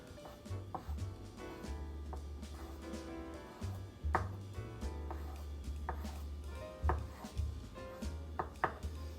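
A knife chops sticky prosciutto into small pieces on a cutting board, giving irregular, fairly close taps and knocks over a steady low hum.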